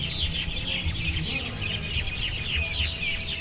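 A dense crowd of parrots squawks and screeches continuously, loud, harsh calls overlapping without pause.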